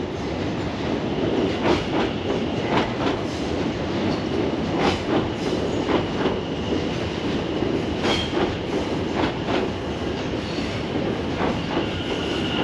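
An electric passenger train, a newer Ventra unit at London Fenchurch Street station, runs close by with a loud, steady rumble, rhythmic clickety-clack of wheels over rail joints and a faint electric whine.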